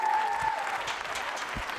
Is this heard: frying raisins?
no